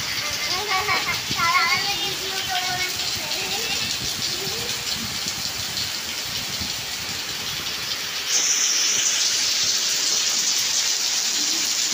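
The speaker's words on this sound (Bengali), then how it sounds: "ভালো জোরে পড়ছে বৃষ্টি।" Heavy rain pours steadily outside a balcony as a dense, continuous rushing hiss, with a voice talking over it early on and the downpour swelling slightly louder near the end.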